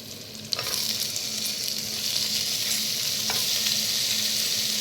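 Mushrooms sizzling in a hot pan for biryani, a loud continuous frying hiss close up, with a sharp clink at the start and a couple of brief stirring scrapes.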